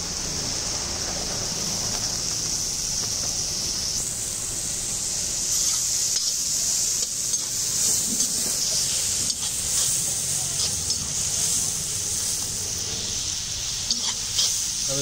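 Green peas sizzle and fry in a hot pan for a vegetable biryani, a steady loud hiss with the occasional stir and scrape, close up and without talk.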